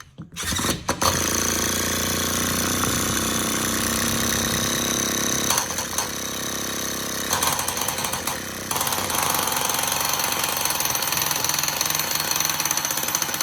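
A Sledge Hammer S50 nitro RC car engine, freshly restarted after years in storage, screams loud and continuous at high revs, with a brief dip partway through before roaring on steadily.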